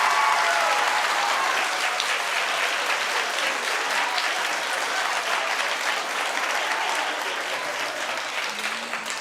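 A studio audience on a talk show claps to cast a vote, loud, dense applause that stays strong for around nine seconds and tapers only slightly toward the end.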